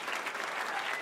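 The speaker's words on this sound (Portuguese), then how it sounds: "A salva de palmas!" An audience at a live hypnosis show breaks into a brief, dense burst of applause.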